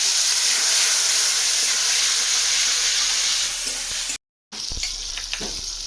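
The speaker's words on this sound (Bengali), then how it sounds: "হলুদ গুঁড়ো মশলাটা যাতে না তলায় বসে সামান্য জল দিয়ে দিচ্ছি" Turmeric and chili powder spices sizzle loudly in a hot pan as a splash of water hits them, a steady hiss and crackle, briefly cut out then resuming with stirring scrapes.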